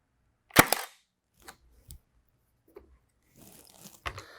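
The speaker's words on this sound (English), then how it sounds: "Now we're just shooting into 2x lumber here." A Milwaukee M18 FUEL Gen 2 cordless brad nailer fires a single sharp, loud shot into 2x lumber, followed by faint handling clicks and small knocks at close range.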